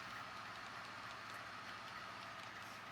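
An HO scale model BN train rolls by on a layout, a steady rushing rumble with faint rhythmic clicking of wheels over rail joints, continuous and even for the whole stretch.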